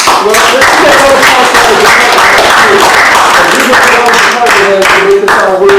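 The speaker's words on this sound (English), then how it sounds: "I think you need a round of applause" At a county board meeting, a round of clapping rattles along in loose, uneven bursts while people keep talking over it, close and loud.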